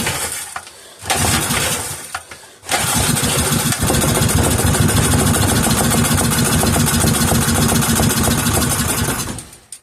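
A 3.5hp Briggs and Stratton small engine sputters briefly and cuts out, then catches and runs loud and steady up close for the rest of the clip.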